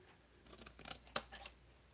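Metal snips make a couple of crisp cutting clicks while trimming material for crafting, with faint handling rustle in between and a sharp snap near the end, all fairly quiet and close with no talking.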